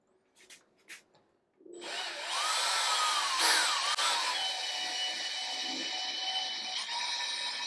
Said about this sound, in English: the first step is to use a drill with a small drill bit to try and create a small hole within the damaged bolt